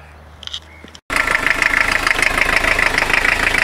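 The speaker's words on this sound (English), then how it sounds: "Right, van is running now. It's nice and quiet." A van engine cranks and catches after a brief silence, then settles into a loud, steady idle with a continuous even rumble.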